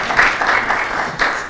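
Brief burst of audience clapping at a corporate annual meeting, a short patter of hands that swells and rises again near the end.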